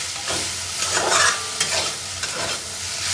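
Pointed gourd peels sizzle in a hot pan while a utensil stirs and scrapes them in repeated strokes, the frying hiss steady throughout.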